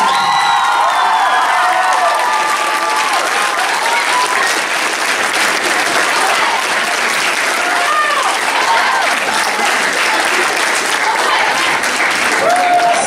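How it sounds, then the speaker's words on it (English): Loud, sustained applause with cheering and whoops rises from a concert audience in the Masonic Temple hall during a children's choir farewell performance, a dense roar continuing for over ten seconds. "so he deserves a big round of applause."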